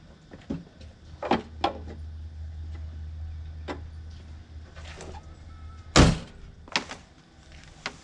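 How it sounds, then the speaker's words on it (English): The hood of a black Mitsubishi EVO 8 shuts over the engine bay during a detailing job, a single heavy close thunk standing out after several smaller knocks and a low steady hum. "And we shut the engine bay."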